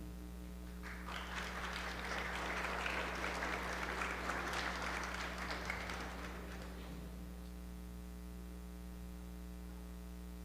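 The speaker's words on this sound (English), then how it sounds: "let's give a round of applause for our next poem" Applause at a high school poetry slam swells into a dense burst of clapping for about six seconds, then fades out. A steady electrical hum runs underneath throughout.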